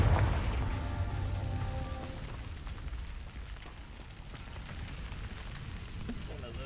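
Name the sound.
Confringo fire-blast spell explosion in video game Hogwarts Legacy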